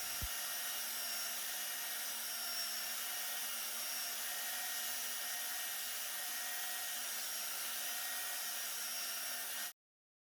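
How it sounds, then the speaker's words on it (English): A Black & Decker belt sander runs continuously, giving a steady, even mechanical whine and hum from start to finish that cuts off abruptly at the end, with no talking. "mine's Black & Decker, and you can kind of see this belt sander in action"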